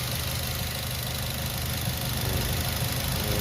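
A Mazda3 car engine idles steadily, a continuous low rumble with a faint knocking texture, close and unchanging throughout.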